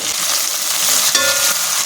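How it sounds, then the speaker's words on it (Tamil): Tomatoes sauté steadily in a hot pan, a constant crackling hiss with a brief clink of a utensil stirring partway through. "நல்லா தக்காளி சேர்த்து நல்லா வதக்கி விடுங்க"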